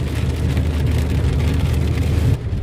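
Rain patters steadily on a car while it drives, mixing with a low road rumble and engine hum, fairly loud and close.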